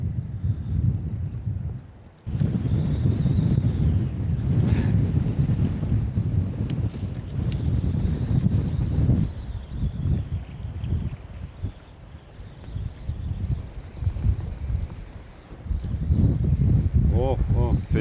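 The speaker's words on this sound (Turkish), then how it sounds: "Oh, feci esiyor." Strong storm wind roars over a small boat at sea, heavy buffeting against the microphone with choppy water beneath, while someone talks intermittently through the gusts.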